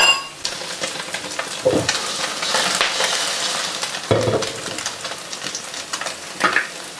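Basil omelette frying in hot oil in a pan, a steady sizzle running throughout with a few louder bursts and clinks of a utensil stirring or scraping, close and alone with no talk.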